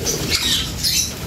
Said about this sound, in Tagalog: Pero pakawalan ko muna itong mga ibon